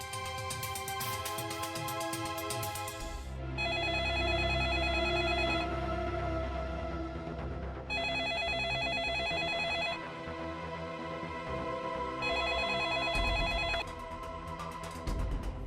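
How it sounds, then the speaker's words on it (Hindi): A telephone rings in repeated electronic bursts with short pauses between them, loud and close, with no one talking. "कहीं ये सम्राट जी का फोन तो नहीं?"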